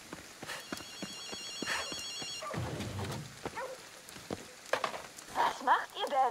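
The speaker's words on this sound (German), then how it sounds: "Ich höre hier doch schon wieder ein Telefon." Telephone ringing in the video game Ghostwire: Tokyo, a repeating electronic ring heard in bursts early on, mixed with rain-like game ambience and other scattered effects.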